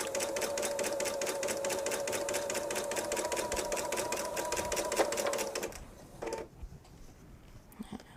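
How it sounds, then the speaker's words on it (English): A sewing machine stitches strips of a jelly roll quilt with a rapid, even mechanical chatter for several seconds, then stops, leaving a few faint handling sounds. "Yep, still sewing."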